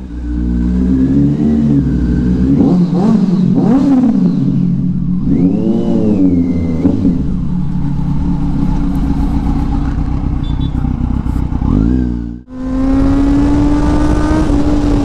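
A Kawasaki Z900 BS4 motorcycle revs loud and close inside a tunnel, its engine note climbing and falling in repeated surges, then dropping briefly before rising again, with no talking.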